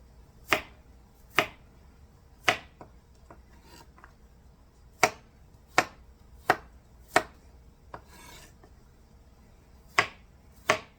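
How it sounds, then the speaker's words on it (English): A knife slices peeled garlic cloves on a cutting board, giving about a dozen sharp, close taps at uneven intervals over quiet background with no talking. "usually I mince this garlic, but today I want to eat bites of actual garlic, so I'm just gonna slice it"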